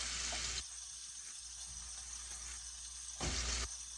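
Sausage sizzles in a frying pan for spaghetti, a steady, moderately quiet fry with two brief louder bursts as pieces are turned over.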